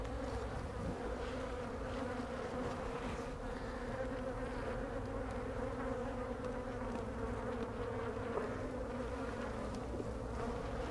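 Honeybees buzzing at an open beehive during a beekeeping inspection: a steady, dense drone of many insects close by, unbroken throughout and without speech.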